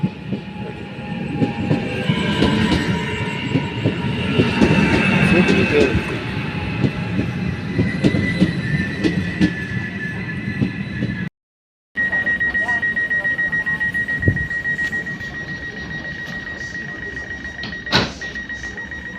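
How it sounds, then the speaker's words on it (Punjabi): A train arrives at a station in Italy, rumbling steadily with clattering wheels and a high metallic whine, a brief cut midway, a voice speaking briefly over the noise. "ਲਓ ਜੀ ਟ੍ਰੇਨ ਵੀ ਆ ਗਈ"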